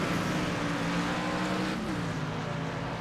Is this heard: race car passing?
yes